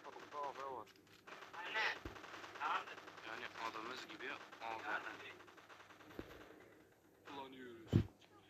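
Gunfire in a video game shooter cracks in a few sharp bursts and single shots, heard under excited talking close to the microphone.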